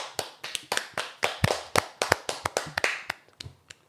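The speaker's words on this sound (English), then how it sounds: "Clap for yourself." A small group of people claps in a room during a podcast recording, sharp close hand claps in an uneven burst that thins out and stops after a few seconds.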